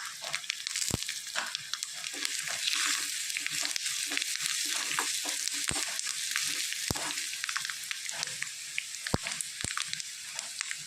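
Onion curry tempering sizzles steadily in a hot pan, a dense close crackle with sharp pops scattered throughout.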